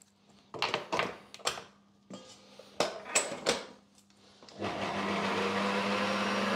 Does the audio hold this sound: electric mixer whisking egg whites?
yes